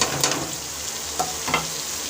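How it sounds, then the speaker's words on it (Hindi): Chicken liver frying in a pan, a steady close hiss of sizzling oil with a few soft stirring clicks over about two seconds. "और अब हम इसके अंदर कलेजी डाल के"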